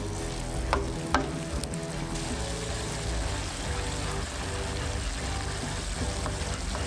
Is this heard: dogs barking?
no